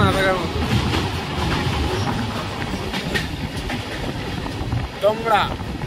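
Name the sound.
Rupasi Bangla express train running through forest area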